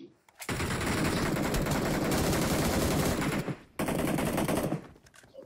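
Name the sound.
gunfire in video game BGMI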